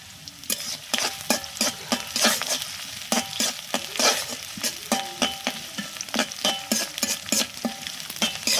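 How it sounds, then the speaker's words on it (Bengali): Onions frying in a pan for broiler chicken curry, with repeated sharp spatula scrapes and stirs over a soft continuous sizzle, close and rhythmic, no voices. "পেঁয়াজ দিয়ে দিলাম। নাড়াচাড়া করে নিলাম।"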